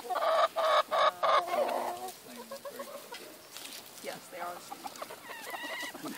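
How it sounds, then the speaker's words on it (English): Chickens at a chicken ranch: a burst of loud, rapid clucks up close, then softer scattered clucking and calls from the flock further back. "We're at the Crazy Lady Chicken Ranch."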